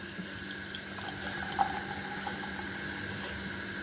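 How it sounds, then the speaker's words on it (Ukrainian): Steady stream of hot water being poured, a continuous gentle splashing rush with no talking. "наливаю сюди щойничка гарячу воду"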